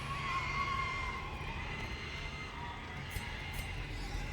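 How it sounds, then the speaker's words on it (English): Screaming pigs in a video game, a shrill, wavering squeal with whinny-like pitch sweeps over a steady background hum, fairly faint and continuous with a couple of sharp high blips near the end. "Yes, the sound of screaming pigs."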